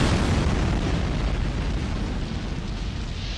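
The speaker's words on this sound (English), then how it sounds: "One shot penetrated the roof and ignited the gunpowder." A massive gunpowder explosion tears through the Parthenon, a loud, dense, sustained roar of blast and rumble that fills the whole moment and slowly eases in intensity.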